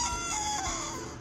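Chickens and roosters at an animal shelter in Torrevieja, Spain, a loud close burst of clucking and crowing that holds for about a second.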